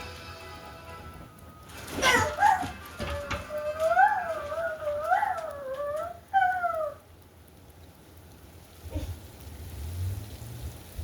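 A dog whines in a wavering, rising-and-falling whimper for a few seconds, fairly close, over a low background hum and some scattered knocks.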